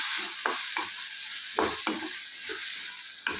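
Vegetable pieces tossed with salt and chili powder in a pan for Maggi veg masala noodles, giving soft scraping stirs in uneven bursts over a faint steady sizzle, with no voices.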